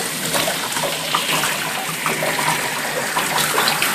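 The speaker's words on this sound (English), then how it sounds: "I'm just getting them a nice warm bath here, rinsing out all of the tomato juice," Warm bath water runs steadily over a dog to rinse tomato juice from its coat after a skunk spraying, a continuous close gushing and splashing with no pauses and no talk.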